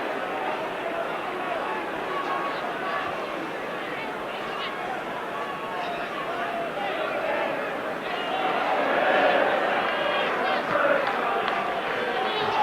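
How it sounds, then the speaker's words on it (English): Football crowd at a 1993 FA Cup fourth-round match between Norwich City and Tottenham Hotspur, applauding a substituted midfielder: a broad, steady roar of clapping and crowd babble that swells slightly toward the end. "Jeremy Goss gets a very good hand from the crowd"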